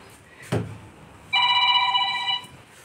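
A telephone rings in a Haryanvi drama scene, one short knock or thump first, then a bright electronic ring lasting about a second, fairly loud and close with no talk over it.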